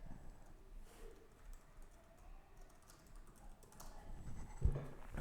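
Quiet, close computer keyboard typing: a brief run of light, irregular key clicks with a slightly firmer tap near the end.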